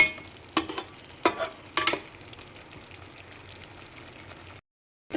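Mustard and coconut paste being stirred and fried in oil for chitranna, heard as three sharp scraping stirs over a low steady sizzle, close by and without talk, cutting to silence near the end.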